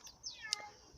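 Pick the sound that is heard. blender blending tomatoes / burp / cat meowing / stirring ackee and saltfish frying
cat meowing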